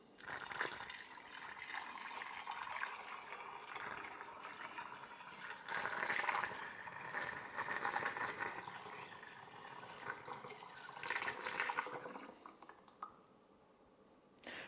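Homemade limoncello is poured gently through a funnel into a glass bottle, a quiet, continuous gurgling trickle with small surges and splashes that tapers off near the end.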